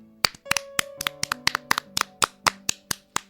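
Four fingers clap against the left palm in a rain-clap exercise, about a dozen crisp close taps in a loose steady rhythm, each sharp and distinct over faint background tones.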